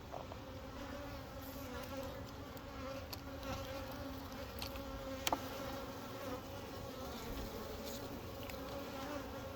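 Honeybees in an opened hive with exposed frames of capped and open brood and drones on top give off a steady, dense buzz that holds evenly throughout, close by, with no voices.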